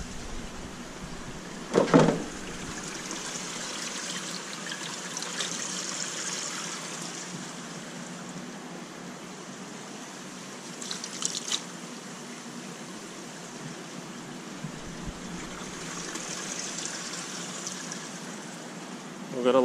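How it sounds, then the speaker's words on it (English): Water is added to soaking Atlantic mackerel and finger mullet, trickling and gurgling steadily, with a couple of brief clunks, a faint low flowing sound throughout. "we're gonna add a little water"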